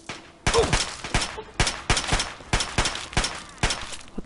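Gunshots in the video game Fallout 3, a string of loud, sharp reports at roughly half-second intervals, about seven or eight in all, each with a short echoing tail.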